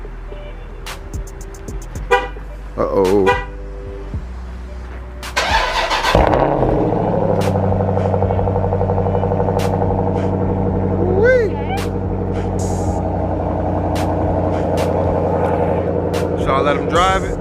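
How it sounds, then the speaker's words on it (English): Car remote start: a short horn chirp from the car, then the engine cranks and catches, settling into a steady idle with a brief squeal, while a person speaks nearby. "Gonna get this cold start. Gotta press the button right here twice."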